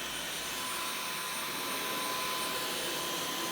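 A Dyson V11 Torque Drive cordless vacuum cleaner runs in auto mode with a steady, high-pitched motor whine and airy rush, constant and close throughout.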